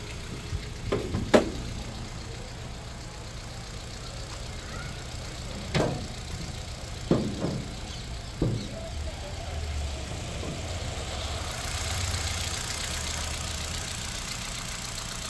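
A 2017 Hyundai Elite i20 petrol engine idling quietly, a smooth, steady low hum with a few brief clunks and knocks on top.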